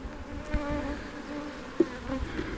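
Steady honeybee buzzing from an open hive during an inspection, sparse bees on the frames, a dense drone with a few brief bumps and knocks, close by and fairly quiet.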